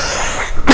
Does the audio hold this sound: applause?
no